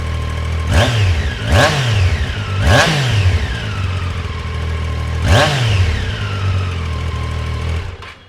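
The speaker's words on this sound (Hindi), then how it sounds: "आप थोड़ा सा इसको रैप करते हैं।" Triumph Daytona 660 inline-three motorcycle engine blipped from idle, four sharp throttle revs rising and falling over a steady idle, loud and close with no talk.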